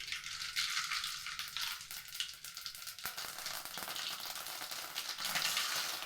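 Mustard seeds drop into hot oil and sizzle, a bright, crackling hiss that surges when they go in and keeps spitting close by, with a faint stir partway through.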